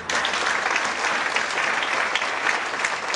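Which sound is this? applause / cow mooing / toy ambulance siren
applause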